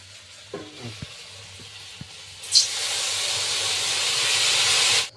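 A pot of fish curry bubbles and hisses after water is added, with a few soft clinks early on, then a loud steady sizzling hiss rises and runs on before cutting off.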